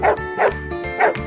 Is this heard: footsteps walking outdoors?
no